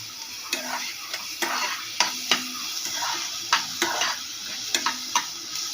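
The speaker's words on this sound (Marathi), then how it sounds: "एकदम असा करपूस असा कांदा भाजू द्यायचा।" Onion frying in a pan until crisp, with a steady sizzle broken by sharp, regular clicks and scrapes of a utensil against the pan, close and fairly loud.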